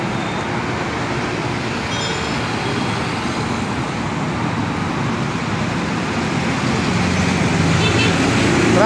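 Steady road traffic noise along a roadway near a tire repair shop: a dense, continuous broadband rumble and hiss that holds at one loud level throughout, with no distinct individual vehicles standing out.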